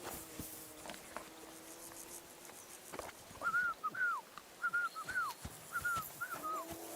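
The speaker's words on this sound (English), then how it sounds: "Your whistling is getting on my fucking nerves the whole way." A melodic whistled tune in short repeated phrases from a character in the video game Kingdom Come: Deliverance II, set over faint outdoor ambience with horse hoof clops and creaks.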